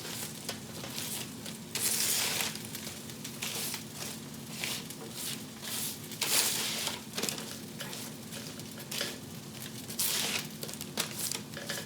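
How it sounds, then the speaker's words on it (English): Cherry tomatoes roasting in a pan for a tomato sauce, tossed around with crinkly, rustling scrapes and soft sizzling bursts that come and go over a low steady background, close and fairly quiet. "I do like to go in at this point and just toss them around a little bit."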